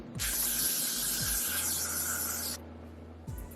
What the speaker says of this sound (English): I'm gonna be using the Got to Be Glue Free spray